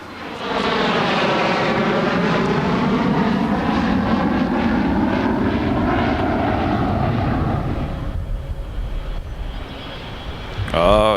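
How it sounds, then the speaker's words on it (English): A Boeing 727 jet airliner at Los Angeles International Airport, a loud, near engine roar with a shifting whine as it passes, fading after about eight seconds, with a brief voice near the end. "look at that, 727."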